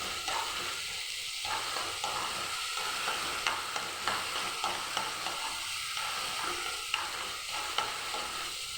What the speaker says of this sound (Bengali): এখন ভালো করে মশলাটা ভেজে নেব।